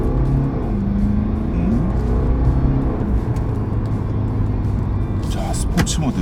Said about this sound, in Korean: 급가속